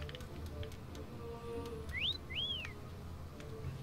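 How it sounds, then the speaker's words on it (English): Whistling in the video game Yooka-Laylee: two quick rising-and-falling whistle notes, faint and close together, over a low background hum and soft ticking, with no one talking. "No, for real, what's that whistling?"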